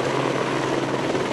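Helicopter flying a mountain search and rescue with firefighters in Minas Gerais and São Paulo, a steady, loud rotor and engine drone with no break, heard alone.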